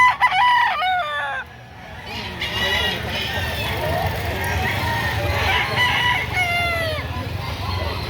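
Several roosters crow at a busy chicken market in Lipa, Batangas, with a loud, clear crow opening the scene and further crows rising over a steady crowd murmur and voices.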